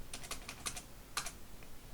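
A password is typed on a computer keyboard at a Unix prompt: a short, quiet burst of roughly a dozen light key clicks in two quick clusters, close up and with no voice.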